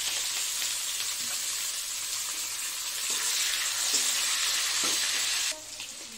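Onions, green chillies and curry leaves frying in oil with panch phoron and dried red chillies, a loud continuous close sizzle with faint stirring clicks that eases off near the end, no talking.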